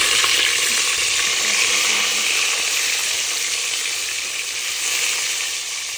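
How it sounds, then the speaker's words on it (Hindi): Eggplant frying in a pan, producing a loud, continuous sizzling hiss that stays steady and slowly eases a little, with no speech over it. "बैगन आलू दोनों फ्राई हो गए हैं"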